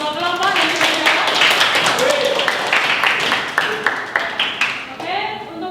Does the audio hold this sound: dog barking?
no